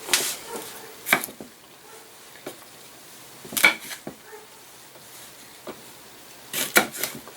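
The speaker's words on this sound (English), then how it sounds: "Now I'm just going ahead and slicing these peppers" A knife slices through green chili peppers and a couple of small banana peppers on a cutting board, giving a few sharp, separate cuts spaced several seconds apart, with quiet pauses between them.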